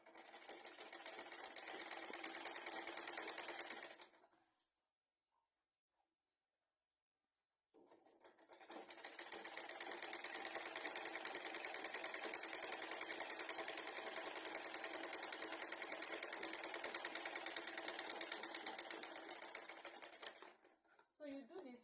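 Sewing machine stitching a half-inch shoulder seam in kimono fabric: a steady, loud mechanical whir for about four seconds, a pause of silence, then a longer continuous run of rapid stitching that stops near the end.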